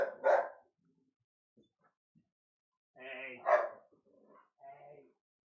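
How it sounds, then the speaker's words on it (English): Dogs bark at the door of a home, with two sharp loud barks a few seconds apart and softer yips and whimpers in between. "I also had to go and separate the dogs"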